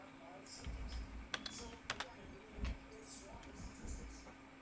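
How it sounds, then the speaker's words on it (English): Keystrokes on a computer keyboard while working on an animated film, a few soft taps and several sharper clicks spread across the clip, near and fairly faint, with talk around them. "I must be typing."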